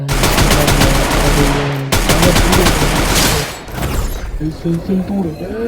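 Rapid gunfire from a shotgun in a mobile shooter game bursts loudly in dense repeated blasts, broken by a brief gap and then tapering into electronic game tones.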